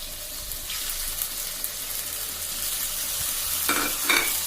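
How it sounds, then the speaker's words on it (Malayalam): Marinated chicken hitting well-heated coconut oil in a pan, a steady broad sizzle and crackle of frying that holds throughout, with a couple of brief louder bursts near the end and no talking. "വെളിച്ചെണ്ണ നന്നായിട്ട് ചൂടായിട്ട് വന്ന് അതിലേക്ക് ചിക്കൻ മാരിനേറ്റ് ചെയ്ത് വെച്ചിട്ട് കൊടുക്കാം"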